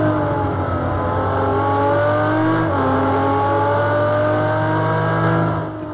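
A Ferrari race car engine in Project Cars 2 at San Marino drones steadily and loudly throughout, its pitch climbing gradually with a brief dip midway before fading slightly at the end.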